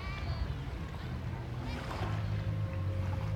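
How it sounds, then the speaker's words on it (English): Water at Walt Disney World, a continuous rushing and lapping sound heard close by at an even level, with faint background voices and low ambient hum beneath it. "Listen to the water. Listen to the water."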